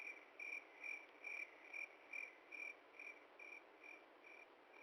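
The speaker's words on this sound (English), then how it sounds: "got the crickets all herded back into their cage" Crickets chirp outdoors in a steady, evenly spaced series of about ten pulsing trills, faint and continuous against a soft background hiss, with no voices.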